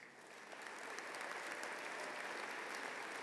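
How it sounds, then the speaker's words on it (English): Graduation audience at a high school commencement breaks into sustained applause, a dense wash of many hands clapping that swells in the first half second and then holds steady and loud throughout. "we should applaud that because it's extremely high"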